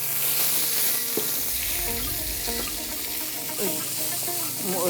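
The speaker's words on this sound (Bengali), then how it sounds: "তেজপাতা, শুকনো লঙ্কা, মৌরি, জিরে ও সামান্য পেঁয়াজ বাটা দিয়ে দিচ্ছি।" Bay leaf, dried red chilli, fennel, cumin and a little onion paste sizzle in hot oil for a dal tempering, a continuous loud frying hiss with faint background music.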